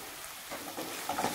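Eggplant and peanut masala being sautéed in oil in a pan, a soft steady sizzle and crackle with a few brighter spitting bursts toward the end, heard close with no talking.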